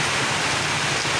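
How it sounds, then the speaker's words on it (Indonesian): Heavy rain pours down in Pamulang, Indonesia, during a storm with strong wind over flooded streets, forming a loud, dense, unbroken roar of noise with no voices. "suasana di Pamulang di Victor ini lagi hujan deras"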